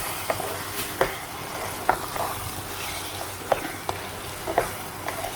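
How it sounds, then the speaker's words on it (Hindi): Qeema and arvi (taro root) with tomatoes fry in a pan, a constant close sizzle with regular spoon scrapes and knocks every second or so as the mixture is stirred. "अब इसमें डाल देंगे हम अरवी और अच्छे से इसको भी हम भून लेंगे अरवी के साथ"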